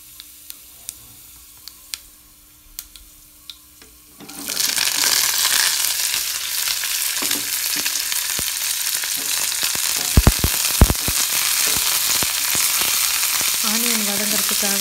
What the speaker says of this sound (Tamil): நெக்ஸ்ட்டு ஆனியன், 2 க்ரீன் சில்லி, அப்புறம் கருவேப்பிலை, அது எல்லாத்தையும் ஆட் பண்ணி நல்லா ஃப்ரை பண்ணணும்.